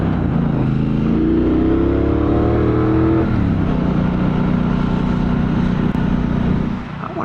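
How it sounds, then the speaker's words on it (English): A Triumph Speedmaster motorcycle on its stock exhaust pulls steadily under a rider, its engine note climbing through the revs and then settling into a deep, continuous drone close by. "Motor sounds great. Totally stock pipe."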